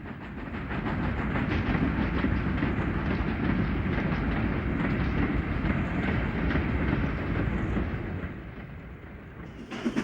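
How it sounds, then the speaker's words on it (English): An austerity steam locomotive hauls a train of empty coal wagons at Balmano between Bridge of Erne and Kinross. The rolling rumble and clatter of wheels on rail stays steady, then eases toward the end. "An austerity with coal empties heads south at Balmano between Bridge of Erne and Kinross"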